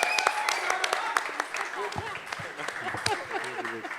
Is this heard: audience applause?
yes